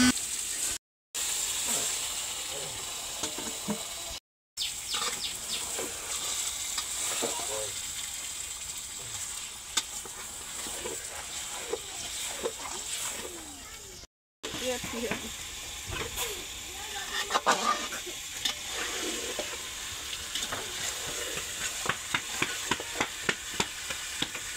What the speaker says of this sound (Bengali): মশলাটা কষানো হয়ে গেছে, এবার মুরগির মাংসটা দেবে,